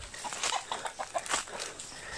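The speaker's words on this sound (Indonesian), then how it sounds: "Ini ayam." Chickens cluck in short, quiet bursts in a rural village yard, a handful of soft clucks scattered across a couple of seconds with light background noise.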